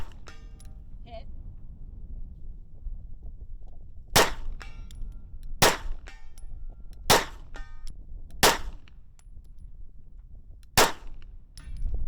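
A TTI Sandviper pistol fires subsonic 124 grain 9mm rounds at steel targets outdoors, giving five sharp, loud shots spaced a second or two apart, with people talking quietly between them.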